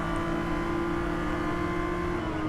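A GLTC touring race car engine at Road America drones steadily as the driver lifts slightly off the throttle, a loud, close, even in-car hum with no talking.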